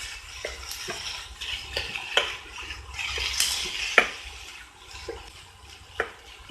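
Boiled banana flower being stirred into fried lentil usili in ghee: irregular spoon scrapes and clacks against the pan over a soft, steady sizzle, close up with no talking.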